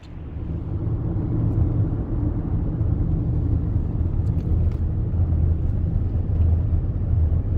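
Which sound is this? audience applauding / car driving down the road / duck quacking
car driving down the road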